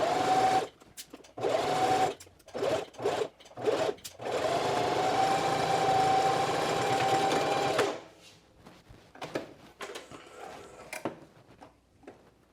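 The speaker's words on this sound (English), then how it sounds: "we have now sewed this bias tape on" A sewing machine stitches bias tape onto a quilted jacket, starting and stopping in short bursts before one sustained whirring run, then falling quiet with faint handling noises afterward.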